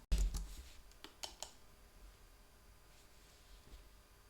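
A few sharp computer keyboard keystrokes and mouse clicks come in a short burst near the start, then fade into faint, sparse clicks in a quiet room.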